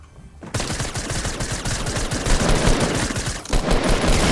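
Loud, rapid gunfire from a Fortnite match breaks in after a brief quiet moment and keeps up in dense automatic bursts, with a short pause before firing resumes.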